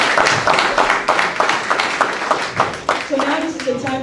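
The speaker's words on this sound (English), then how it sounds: "Give a big round of applause to yourself, to all the family" An audience claps through a hall of fame ceremony, a steady wash of applause from a crowd while a voice talks over it near the end.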